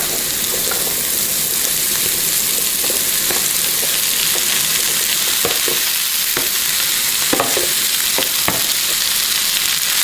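Pasta tossed and reheated in a hot frying pan, with a steady close sizzle of frying under repeated scraping stirs and clicks of the utensil against the pan, no voices.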